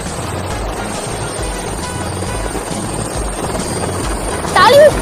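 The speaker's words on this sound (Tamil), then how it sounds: "நிஜமாவே மேல ஹெலிகாப்டர் பறக்குது" A helicopter flying overhead fills the air with a steady thrumming drone, with a voice briefly audible near the end.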